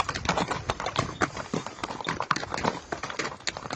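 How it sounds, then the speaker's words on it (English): Horse hooves clip-clop in a steady, fairly quick rhythm as a shiny black horse is ridden, the hoofbeats close and distinct, with no talking. "Amin rode a shiny black horse"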